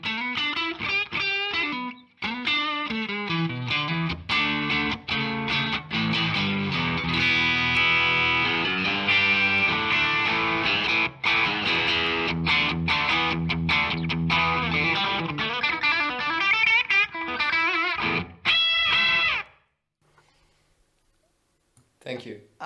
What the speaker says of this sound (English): The viewers can hear how it sounds if it's just the room mic solo.